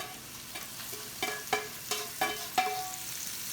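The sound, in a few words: cooked mushrooms and onions added to frying steak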